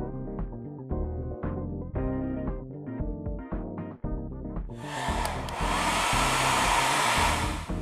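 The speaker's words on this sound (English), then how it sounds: "you're gonna wanna grab a blow dryer to heat this up" A blow dryer heating heat-activated mustache wax starts loudly partway through as a steady close rushing whoosh, taking over from music that plays alone beforehand.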